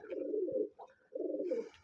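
A pigeon coos close by in a loft in two soft, throaty phrases separated by a brief pause, with nothing else in the background.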